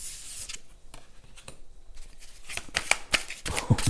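Healing oracle cards being shuffled by hand, a run of crisp riffling flutters and slaps close up, building to denser bursts near the end, with no talk over them.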